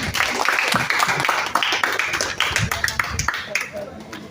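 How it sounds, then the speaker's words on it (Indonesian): Clapping for Team B at a children's Islamic quiz contest between TPA/TPQ groups in Gowa, a lively burst of hand claps mixed with voices and chatter in a hall. "tepuk tangan dulu untuk Regu B semua ya"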